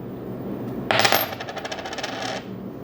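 Small metal paper clips dropping off a magnet onto a hard surface, a sudden clatter followed by a run of light tinkling bounces that fade out over about a second and a half.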